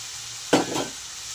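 A spoon stirs cauliflower curry with its water reducing in a frying pan, one quick scraping swish over a soft background sizzle, close and brief.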